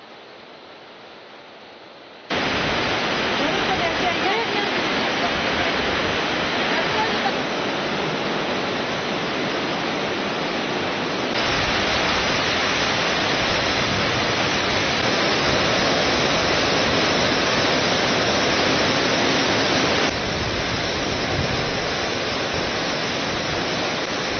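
Shannon Falls, a massive waterfall, roars as a loud, dense, constant rush of water that fills the scene, rising after a brief quieter start and holding steady with no voices.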